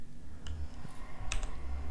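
A handful of scattered keystrokes on a computer keyboard, quiet and close, with irregular gaps between the clicks and no talking.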